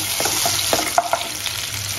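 Garlic and green chili paste sizzles in hot oil for a soya Manchurian, a steady close frying hiss broken by a few soft stirring scrapes.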